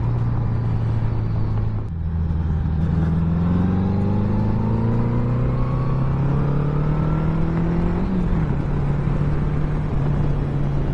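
A 1982 Honda Goldwing 1100 motorcycle accelerating hard, its loud engine note climbing steadily in pitch through the gears over several seconds, heard up close with wind rush and no talking.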